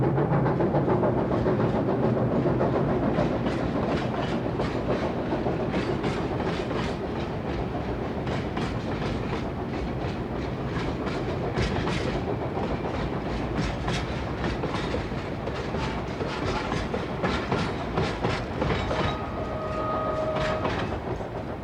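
A train rolls steadily along the rails through the Tian Shan Mountains, with continuous rumble and rhythmic clickety-clack of wheels over track joints, heard from on board.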